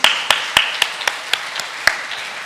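A church congregation at a summer revival meeting claps along in a brisk, fairly regular rhythm, about nine sharp claps spread over two seconds, loud and close with no talking.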